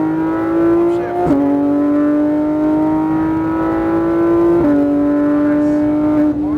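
Race car accelerating on a track, with a steady loud engine drone rising in pitch through the gears and two clear upshifts where the pitch drops before climbing again.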